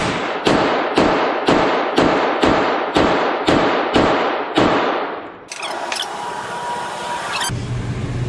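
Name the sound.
gunshots fired at a shooting range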